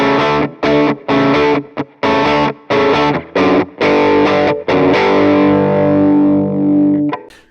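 Heavily distorted electric guitar on the bridge pickup plays choppy rhythm chords in short stabs, ending on a sustained ringing chord that fades out, loud and close.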